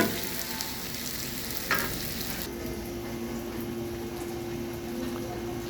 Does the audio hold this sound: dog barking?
no